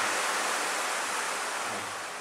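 An ocean drum is tilted slowly so its beads roll across the head, imitating sea waves as a soft, even wash of hiss that fades slightly at the end.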